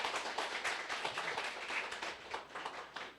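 A Korean church congregation claps for a newly married couple, a moderately quiet, dense patter of many hands that runs steadily throughout without talk.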